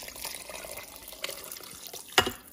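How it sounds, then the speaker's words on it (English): Water is poured into a pressure cooker of chili with beans, meat and seasoning, a brief soft trickle and splash with a louder slosh near the end. "I'm gonna add my 4 cups of water."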